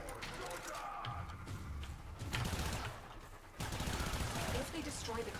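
Rapid gunfire from a weapon aimed at a turret in the sci-fi shooter Warframe, with dense bursts and a sharper, louder volley midway, mixed with game effects and background din.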